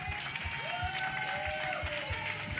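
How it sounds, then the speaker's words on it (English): Applause from an audience clapping for seniors at a community outreach session, steady but fairly soft, with a tonal sweep and low thumps underneath. "Would you clap it up for the senior next to you?"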